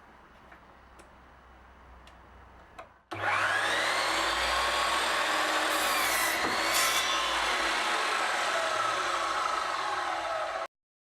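A miter saw cuts wooden parts for a modular workbench in a workshop. After about three seconds of quiet room noise, the saw starts with a loud, close, steady whining roar that holds for roughly seven seconds, then stops abruptly.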